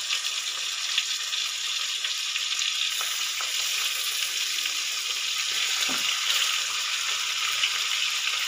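Marinated chicken for pepper chicken frying in a pan, giving a steady, close sizzle that runs continuously with faint stirring clicks and no talking.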